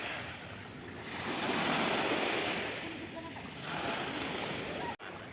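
Sea waves wash ashore on a Mumbai beach, a broad hissing surge that swells and recedes close by, with wind buffeting the microphone and brief voices at the edges.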